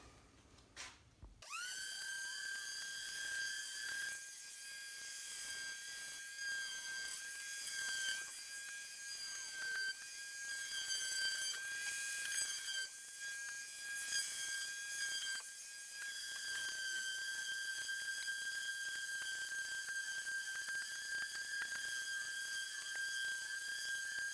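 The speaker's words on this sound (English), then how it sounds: "switch back over to my sander and get this done" Electric sander running steadily on a homemade kitchen countertop, a continuous high whining drone with a brief rough start and slight wavering in pitch as it works, close and loud with no talking.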